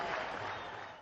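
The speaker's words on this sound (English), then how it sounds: "There you see the Pakistani camp applauding his effort." Applause from players and spectators at a Pakistan versus India cricket match in Sharjah, a brief burst of distant clapping that fades quickly.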